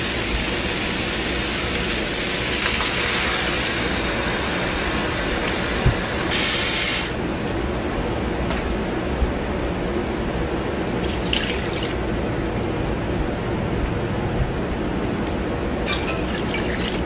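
A steady stream of water pours into a pot of squirrel meat, an even, continuous splashing rush that runs for the whole stretch with no voices over it.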